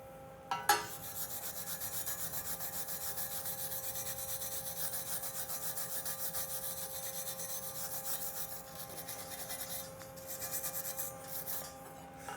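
Steady rasping and scraping of a file and wire brush cleaning slag from a weld on half-inch steel plate, continuous strokes at a low, even level with a brief knock at the start.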